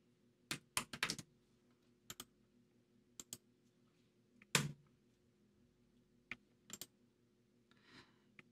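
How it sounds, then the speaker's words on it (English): Scattered keystrokes on a computer keyboard as a wget command is typed into a terminal, short bursts and single clicks spread across several seconds, fairly close and quiet, with no talking. "Type wget and paste the URL."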